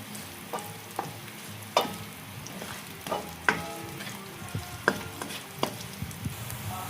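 Garlic and ginger sizzle steadily in hot oil for a lapu-lapu escabeche, while a spatula stirs and clinks against the pan at irregular beats, close and fairly loud with no talking.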